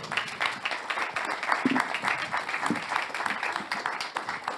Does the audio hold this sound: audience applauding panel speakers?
yes